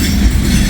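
A train on the old B&O or Pennsylvania main line rolls steadily past on track 2, a continuous low rumble of railcars close by, loud and unbroken, with no voices.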